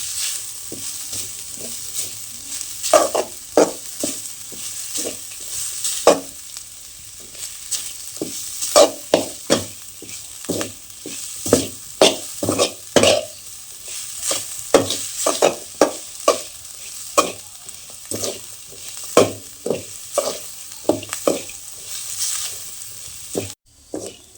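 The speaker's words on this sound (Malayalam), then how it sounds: "ഒരു ബ്രൗൺ കളർ ആകുന്നവരെ ഇങ്ങനെ ഇളക്കിക്കൊണ്ടിരിക്കണം" Grated coconut dry-roasted in a pan until brown, stirred continuously in a village kitchen; rapid, irregular scraping strokes sound up close over a quiet, faintly hissing background.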